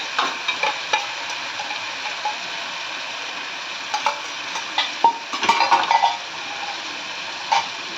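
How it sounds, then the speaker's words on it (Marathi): Ginger-garlic paste frying in hot oil for a spicy potato curry, a steady sizzle with intermittent clinks and scrapes of a spoon stirring against the pan, no talking. "हे घातले मी आता हे तेलामध्ये छान परतायचं आपल्याला परतून घ्यायचं आहे"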